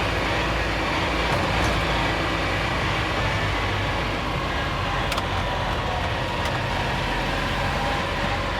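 Citroen Mehari engine while driving in second gear, a loud, steady droning rumble with road and wind noise running continuously throughout.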